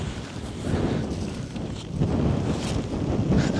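Steady wind buffets the microphone outdoors on a frozen lake during ice fishing for pike, a continuous rushing roar that swells louder toward the end, with no voices.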